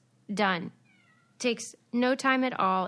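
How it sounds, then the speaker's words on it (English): A pet cat meows several times close by, its cries overlapping and mixing with someone speaking. "Pardon my cat, who's meowing."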